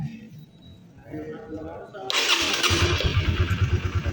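Electric starter on a Honda CB150R motorcycle that has trouble starting, cranking in a rapid rhythmic burst that follows a spell of quieter talking, close and fairly loud.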